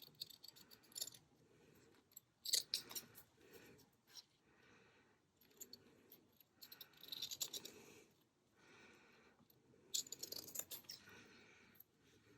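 Paper cut down by hand for a woodland waterfall journal page: quiet, close scissor snips and paper rustles in irregular bursts over about twelve seconds, with no talking.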